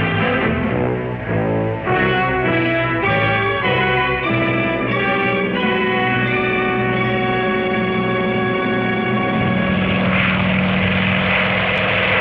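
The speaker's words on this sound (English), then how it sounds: "Swordfish planes from the carrier Ark Royal locate the fugitive again." Swordfish biplane propeller engines drone steadily and loudly over the sea, with a layered, harmonic hum that shifts slightly in pitch as the planes pass.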